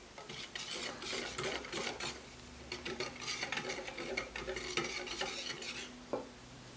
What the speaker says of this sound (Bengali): এগুলোকে একটু মিশিয়ে নিচ্ছি।